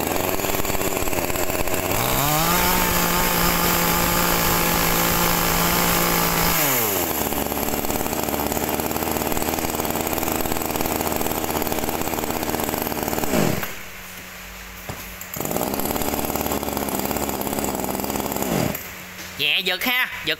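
A Japanese E20 chainsaw starts on one pull and runs loud and close, revving up and idling down in several rising and falling surges with a brief drop near the end, as someone talks over it.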